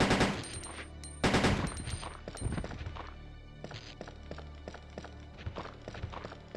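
Big gun firing in Resident Evil 2 (1998): a couple of loud, punchy blasts early on, then a run of lighter sharp clicks and thuds at an uneven pace.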